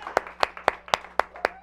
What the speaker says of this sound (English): A round of applause. Yeah.